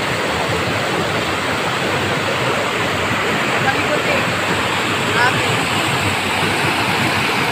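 Waterfall in Palawan, a steady broadband roar of falling water that fills the whole clip at constant loudness, close by and unbroken, with no clear talk over it.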